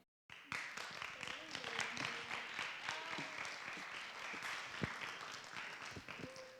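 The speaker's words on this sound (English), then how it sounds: "another round of applause for Lily." An audience at a school talk event breaks into a burst of applause that sets in abruptly after a brief silence and holds steady, dense and lively, with scattered cheers and voices mixed in.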